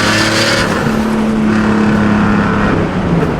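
A full carbon fiber Bugatti supercar engine sounds loud and steady, a close, continuous droning roar with a shifting pitch and no talk over it.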